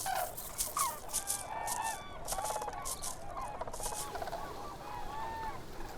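Flocks of cranes at a migration stopover in Spain give many overlapping bugling, trumpeting calls, moderately distant and continuous, above a rushing background.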